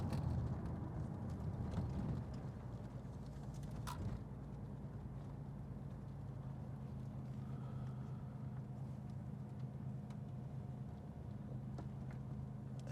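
A 1988 Porsche 911 Turbo downshifts into second while cruising, its steady low engine drone running continuously at moderate distance with a brief clunk of the gearchange and no talking.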